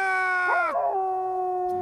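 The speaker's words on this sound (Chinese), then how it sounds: "他龇牙嚎叫两声" A cartoon dog from an anime lets out a short, loud howl that bends in pitch, rising then falling within about a second, followed by a lingering tone and quiet background.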